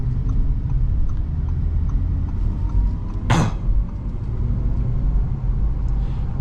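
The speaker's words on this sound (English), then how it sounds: "Each electric car has their noise when they accelerate, which is pretty neat." A 2022 Audi e-tron GT Prestige electric car accelerates with a steady low motor and road rumble inside the cabin, broken by one brief rushing whoosh partway through.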